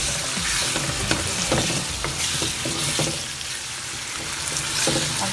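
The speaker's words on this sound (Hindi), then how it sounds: "चिकन को ऐड करके हम इसको थोड़ी देर के लिए तकरीबन 3 से 4 मिनट के लिए भूनना है।" Chicken pieces fry and sizzle steadily in a hot pan while being browned for chicken do pyaza, with a continuous crackling hiss and occasional sharper pops and stirring scrapes, no voices.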